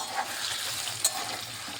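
Taro frying in a pan as it is stirred: a soft continuous sizzle with a couple of brief utensil scrapes, close up and without talk.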